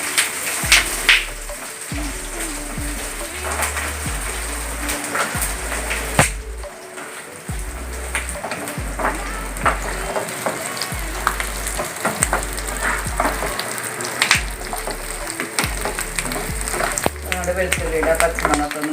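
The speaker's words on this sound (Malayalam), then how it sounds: "ഇനി നമ്മൾ വെളുത്തുള്ളി അതിലിട്ട് കൊടുത്ത് നന്നായി ഒന്ന് പകുതി വേവാവുന്ന വരെ നന്നായി ഒന്ന് ഇളക്കി കൊടുക്കുക" Garlic cloves frying in hot oil for garlic pickle, a continuous loud sizzle with repeated scraping and knocking of a stirring spoon against the pan in an uneven rhythm.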